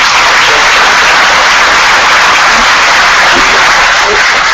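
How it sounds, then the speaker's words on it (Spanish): Audience applause closing a medical conference talk on metabolic syndrome: loud, dense and steady clapping filling the whole stretch without a break, close and even in level. "solamente que se merecen unos aplausos"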